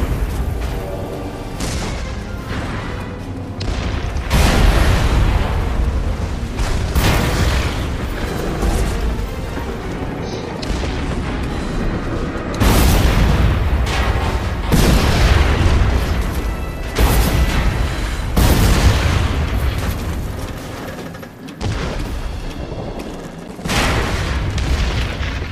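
Repeated heavy booms and blasts in The Saboteur, loud and close, bursting every few seconds over a continuous rumbling background.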